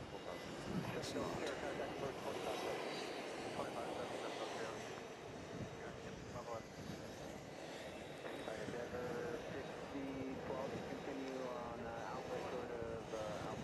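Small Delta jet airliners at JFK International Airport, a continuous airport jet roar with people talking over it throughout.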